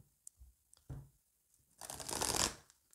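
An oracle card deck cut and shuffled by hand: a few soft taps and slides, then a louder close riffling burst lasting about a second before fading.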